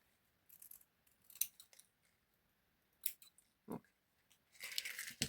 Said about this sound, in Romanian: O să și o decupez direct acum.